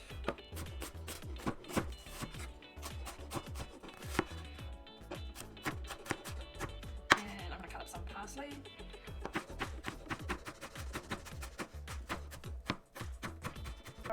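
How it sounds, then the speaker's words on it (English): A knife chops an onion into strips on a cutting board, a steady run of quick sharp knocks against the board, close and fairly quiet, with a brief pause midway. "first off I'm going to cut up this onion just into little strips"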